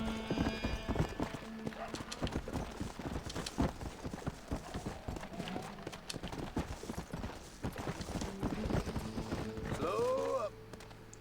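Horse hooves clip-clop steadily at close range through a Red Dead Redemption game scene, mixed with game sounds and a brief whinny near the end, and a voice talks over them at times.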